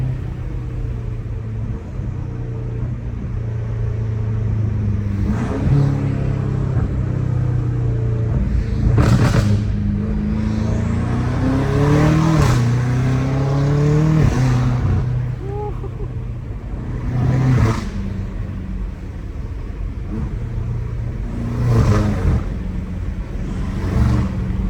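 A BMW F90 M5 Competition with a straight-piped titanium exhaust accelerates hard from inside the cabin. The engine's loud, droning howl climbs in pitch, drops back at each gear change, then rises again over a constant road rumble.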